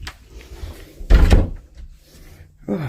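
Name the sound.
door being kicked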